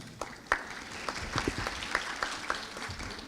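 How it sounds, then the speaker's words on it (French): Audience at a French presentation applauding, a soft, fairly distant patter of scattered claps that carries on steadily throughout. "j'aimerais bien terminer sur cet applaudissement"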